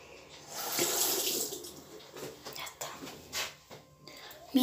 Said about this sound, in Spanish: Ahora voy a echar agua.